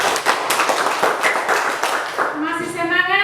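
Schoolchildren in a classroom clap together in a quick burst of many hands for about two seconds, then voices take over as the clapping stops.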